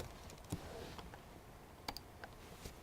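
Someone types search terms on a computer keyboard, producing a few sparse, soft clicks and taps with short pauses between them against a quiet room background.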